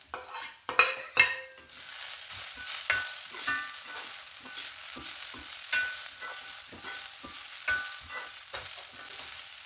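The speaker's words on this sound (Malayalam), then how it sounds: "മസാലകളുടെ എല്ലാം പച്ചമണം മാറുന്നത് വരെ നന്നായിട്ട് വഴറ്റിയെടുക്കണം" Whole spices, fennel seeds, star anise, cloves, cardamom and cinnamon, sauté in oil in a pan for egg rice, with a few sharp metal stirring scrapes up front, then a soft steady sizzle and light spatula clicks.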